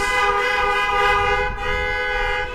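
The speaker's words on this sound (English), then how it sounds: "I would find a way of honking my horn" A car horn sounds one long, steady honk lasting the whole moment, loud and close, at a Thanksgiving drive-in worship service in a parking lot.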